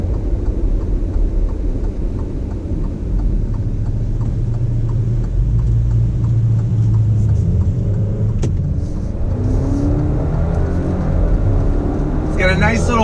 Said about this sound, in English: It's got a nice little burble when it shifts.